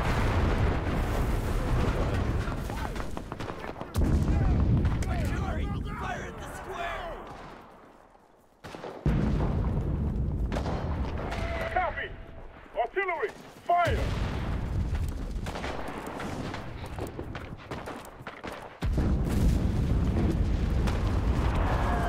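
Booming airstrike explosions and scattered gunfire in the World War II shooter game Enlisted, heavy rumbling blasts in bursts with quieter gaps between them, and a voice talking in places.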